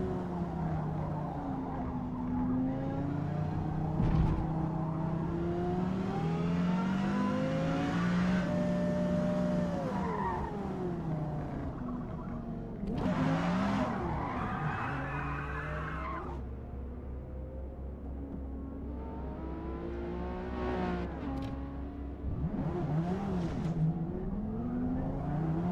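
A Porsche Carrera GT in a racing video game revs hard and continuously, the engine note rising and falling through gear changes with tire squeal, loud and steady throughout.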